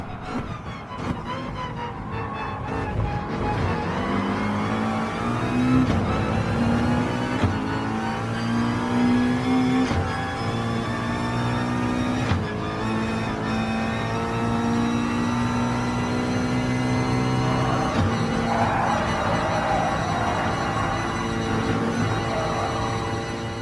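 Race cars lapping Spa Francorchamps in Gran Turismo Sport, including a BMW and a Porsche, with engines revving and rising in pitch through gear changes, loud and close, a continuous racing drone.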